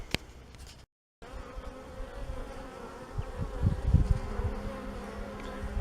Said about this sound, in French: Les abeilles ressortent.